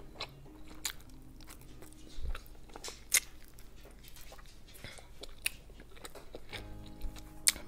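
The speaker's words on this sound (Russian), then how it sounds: "Я жую краешки." Teriyaki pork ribs are bitten and chewed close up, with irregular crunchy bites and wet chewing sounds separated by short quiet gaps.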